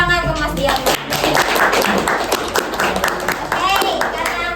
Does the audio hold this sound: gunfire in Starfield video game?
no